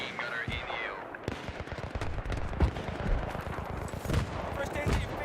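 Enemy machine gun fire in the Battlefield 3 video game on PS3, a dense crackle of rapid gunshots with distant booms throughout, mixed with battlefield noise and some voice chatter.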